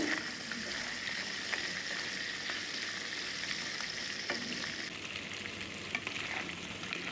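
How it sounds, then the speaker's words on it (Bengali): Close, continuous sizzling of crab pieces and legs frying in a pan for a Bengali crab curry, with a few sharp stirring clicks and pops and no voices. "দেখুন ভাজাটা প্রায় হয়ে এসছে"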